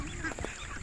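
Ducks quack near a rainwater pool in a rural yard, a few faint nasal calls heard briefly over a noisy outdoor background.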